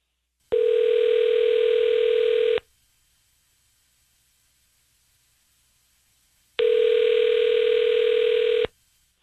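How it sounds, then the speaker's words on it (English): A telephone call ringing out after dialing gives two long, steady ringback tones, each about two seconds, separated by a silent pause of roughly four seconds, clear and alone. "I'm dialing now."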